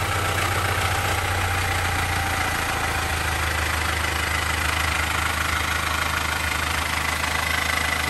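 A 2019 Toyota GL Grandia 2.8L diesel van engine idles steadily nearby with a low, even rumble and a faint knocking rattle, no voices.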